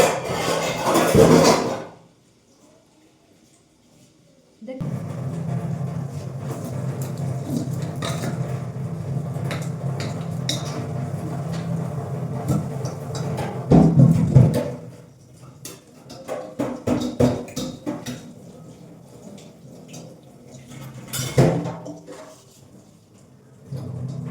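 Dishes, pots and pans washed at a home sink, with a steady wash of running water and scattered clinks and clatters of utensils, broken by short quiet gaps.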